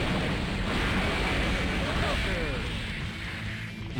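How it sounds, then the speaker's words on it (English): Large explosions from a Guilty Gear ACPR fighting-game match at a tournament: a dense, loud, continuous rumbling blast that fills the whole stretch, with a commentator talking over it. "Large explosions there."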